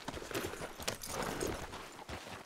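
Horse hooves clip-clopping at a steady walking rhythm in Red Dead Redemption 2, moderately close over a busy outdoor ambience, with faint voices in the background.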